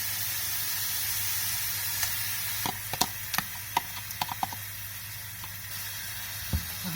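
Mustard saag greens dropped into a hot, well-fried tarka of spices sizzle with a steady hiss, broken by several sharp spitting crackles and pops near the pan.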